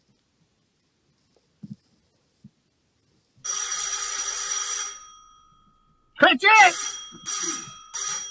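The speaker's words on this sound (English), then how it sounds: "The doorbell, fool." A doorbell rings in an old house in a Christmas Carol staging, a sustained bright ring lasting over a second, followed by someone shouting and then further short ringing bursts.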